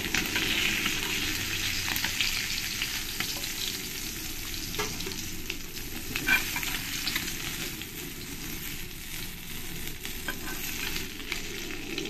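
Loud, close sizzle of puti and mourala fish frying in oil, punctuated by scraping and clinking from stirring and lifting, no voices.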